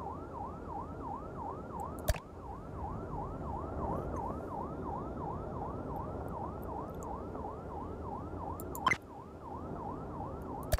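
Wailing emergency vehicle sirens sound in the top-down firefighting game Fire Commander, a steady rapid rise-and-fall wail over low engine rumble, broken by two sharp clicks.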